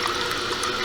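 Water rushes steadily into a toilet tank through a newly replaced fill valve, a continuous close hiss of filling water with no pauses or talk.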